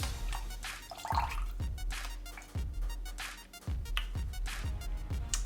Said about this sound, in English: So what I like to do is just completely dump the coconut out.